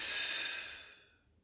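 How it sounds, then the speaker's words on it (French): A long exhale during a power yoga session, a soft, airy breath out that starts fairly strong and fades to silence over about a second, heard alone and close. "Inspirez. Soufflez."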